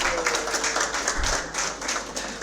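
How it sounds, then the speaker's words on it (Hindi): A classroom audience at a CA Inter accounting orientation applauds briefly, steady crowd clapping at moderate volume for a couple of seconds. "अपने लिए ताली बजाए एक बार"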